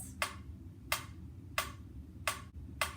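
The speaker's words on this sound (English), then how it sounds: "that is a musical tool called a metronome" Steady metronome ticks at 92 BPM, five sharp clicks evenly spaced a little over half a second apart, crisp and close over a faint background hum.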